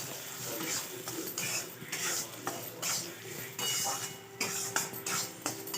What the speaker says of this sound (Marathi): मस्त खमंग वास येईपर्यंत भाजन घेणार